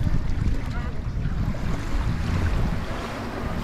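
Waves and wind on the beach at Puerto Morelos make a dense, continuous wash of surf with gusty rumble against the microphone, loud and unbroken with no clear voices.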